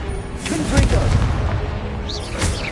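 Confringo blasting curse in Hogwarts Legacy, a burst of booming, crackling blasts spread across the whole moment, loud and close, with a rising magical whoosh near the end.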